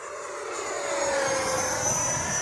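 A Freewing English Electric Lightning RC jet flies overhead with a steady rising whine of its electric ducted-fan engines, loud and continuous, with no talk.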